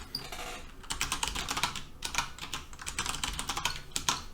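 Rapid keystrokes on a computer keyboard while an admin password is typed in for a web portal, bursts of close clicking running steadily with short pauses between groups, no talking.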